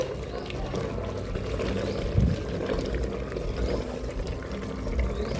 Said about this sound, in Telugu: ఇప్పుడు ఇందులోకి వాటర్ వేసుకుందామండి